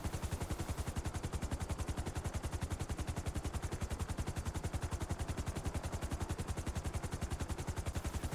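Valkyrie helicopter turret in the video game GTA V firing one continuous rapid burst of evenly spaced shots, rhythmic and unbroken, fairly quiet overall, with no voices.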